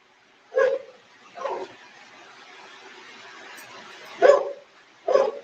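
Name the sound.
dog barking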